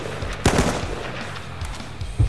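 Gunfire rattles through a Squad video game firefight: a few sharp close shots and short bursts, with quieter distant cracks between them.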